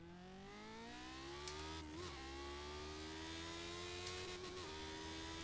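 A 1979 car engine revs hard on a test drive lap, a loud sustained whine climbing in pitch, dipping briefly at a gear change, then rising again, heard alone without talk.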